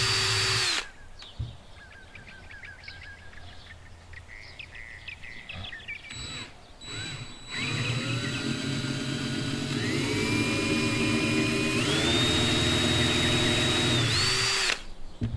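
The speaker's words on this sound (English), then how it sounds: "I'll drill the pillars for the self-tapping screws." A power drill whines in several bursts, the motor pitch rising as it bites into the metal screw pillars of a Hot Wheels Mini Cooper die-cast car, with brief pauses between runs and faint chirps behind.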